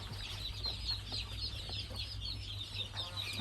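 A large batch of ducklings awaiting vaccination peeps continuously, a dense chorus of high chirps over a low hum, heard faintly at a distance.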